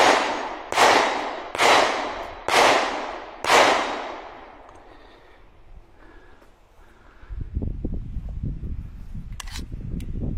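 Five sharp CZ Shadow 2 Carry pistol shots at a shooting range, evenly spaced about a second apart, each loud with a ringing decay, followed by low rumbling handling noise and faint clicks.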